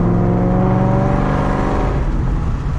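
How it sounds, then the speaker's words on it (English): A Corsa exhaust fitted with Vibrant resonators holds a steady part-throttle drone, heard from inside the car with the windows open. The engine tone stays loud and continuous, with a slight rasp and a gentle easing toward the end. "now you guys can hear part throttle"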